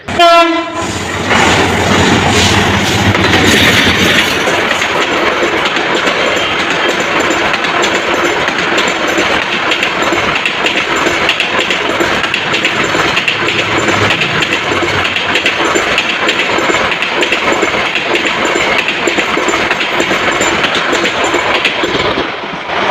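The Kalni Express intercity train at Bhairab Bazar railway junction. A loud, close horn blast opens, then a continuous heavy rumble and rhythmic clatter of the wagons rolling past fills the rest.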